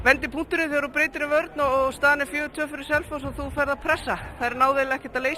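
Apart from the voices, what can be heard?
No everyday noise stands out behind the speech.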